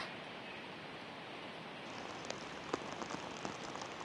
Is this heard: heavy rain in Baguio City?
yes